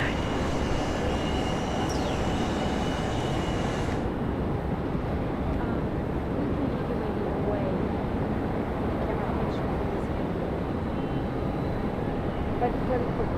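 Steady, broad jet roar of a Rex airliner taking off from runway 16 at Sydney Airport, heard from a distance as a continuous rumble throughout, with people talking over it.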